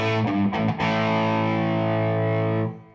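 An electric guitar through an Orange amp set to 12-watt mode with gain and reverb rings out as one loud, distorted sustained chord that fades after a couple of seconds.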